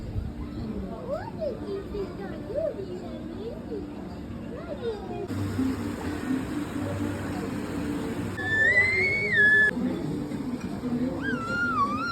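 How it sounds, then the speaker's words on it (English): Shrill whistled tones rise and fall in a few short bursts near the end, over a busy background of voices and general noise. "It's a whistle."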